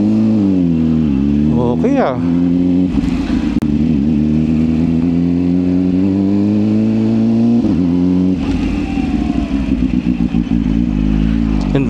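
Kawasaki ZH2 inline-four naked bike engine revving loud and close, rising and falling pitch with sweeps near two and eight seconds, a brief voice speaking over the steady roar.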